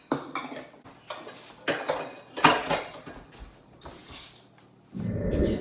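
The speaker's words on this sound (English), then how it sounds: "now we're mixing it up until it gets to a smooth batter, dough-like consistency" Cake batter of flour, baking soda and vanilla being mixed in a bowl, with irregular clinks and scrapes of utensil against the bowl in uneven bursts, close and fairly quiet, ending in a denser rumble.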